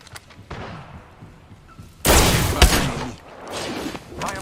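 Gunfire in a first-person shooter video game, a sudden loud burst of shots and impacts that dies into a rumbling tail, preceded by quieter game ambience and faint voice chatter.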